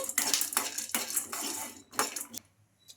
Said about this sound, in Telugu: ఇలా పల్లీలు వేగుతుండగానే ఇందులోకి పుట్నాల పప్పు కూడా వేసుకోవాలి ఇంకా ఇప్పుడు ఈ రెండు మంచిగా వేయించుకోవాలి